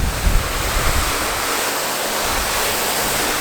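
A hose or sprayer spatters water across a car panel in a broad, steady rushing hiss with a few heavier splashes at the start, loud and close with no voices.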